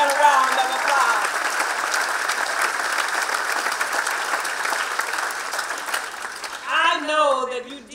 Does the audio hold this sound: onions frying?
no